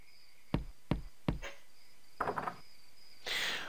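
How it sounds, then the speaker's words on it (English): Three sharp, evenly spaced knocks land on a door in the video game Monkey Island, loud and close, followed by a short rattling clatter and a brief burst of noise. "I think I'll knock."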